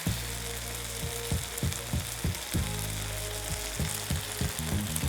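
Rice wine hits a hot pan of chicken stir fry with a continuous sizzle, broken by repeated scraping and clacking stir strokes at an uneven rhythm.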